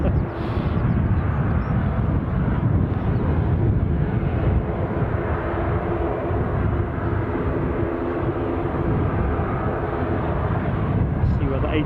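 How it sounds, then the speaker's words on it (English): ATR 42 turboprop aircraft at Edinburgh airport gives a loud, continuous engine roar throughout, with wind buffeting the microphone and no clear break in the drone. "Let's see where the ATR 42's going."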